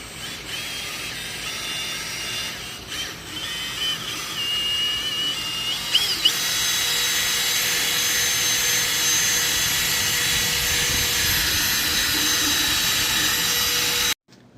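A power drill on its high speed setting spins a buffer ball against a car headlight during a lens renewal, a steady high whine that settles into a constant loud drone after a few brief stops.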